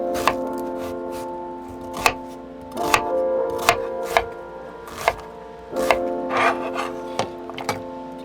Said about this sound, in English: Next, we'll go ahead and chop up an onion.